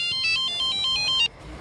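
A phone's electronic ringtone plays a bright repeating melodic pattern for just over a second and then cuts off, in an Indian TV crime drama scene.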